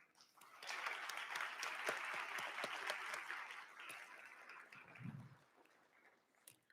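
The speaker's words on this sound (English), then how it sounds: "A big round of applause for those members who made today successful." Sustained round of applause from the audience at a university nursing pinning ceremony, a dense wash of clapping that holds steady for several seconds and then gradually thins out.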